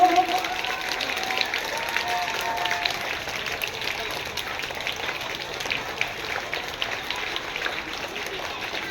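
Students at a school Children's Day celebration clap together in a steady, dense wash of applause lasting throughout, with an adult voice briefly audible at the start.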